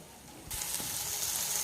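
Cluster beans drop into onion paste frying in oil, and a quiet hiss jumps to a loud, steady sizzle that carries on to the end, close up.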